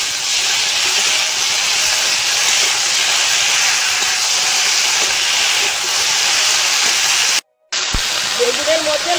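Cut potatoes and eggplant frying in hot oil, a loud, steady, bright sizzle that cuts out briefly near the end, with faint voices in the background.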